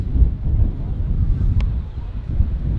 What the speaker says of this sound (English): It's always really windy and really dry here.